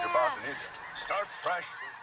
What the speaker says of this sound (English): There's too many geese.